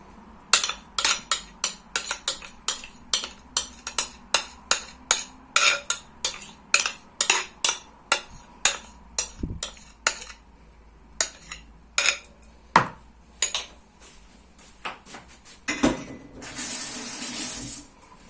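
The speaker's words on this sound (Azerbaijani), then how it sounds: "Bir də bunu yaxalayım." Kitchen washing sounds of a pot being rinsed, with repeated sharp clinks and scrapes of metal in a steady rhythm, then a rush of running tap water filling the sink near the end, close and clear.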